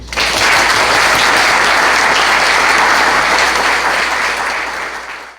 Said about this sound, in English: can I have a nice, warm, rousing NSD applause of thanks and welcome for our candidates